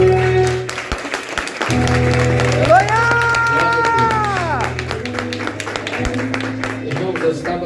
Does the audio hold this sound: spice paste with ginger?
no